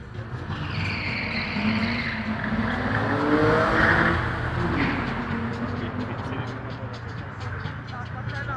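A BMW M5 in a quarter-mile drag race at an indoor car show in Hamburg, engine rising and sweeping past with a tire screech, heard under an announcer talking over a loud hall.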